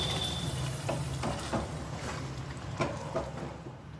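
Boiled kidney beans and lentils are stirred in a hot, oily pan for dal makhani. A steady sizzle runs underneath, broken by several soft scraping stir strokes, close by and with no voices.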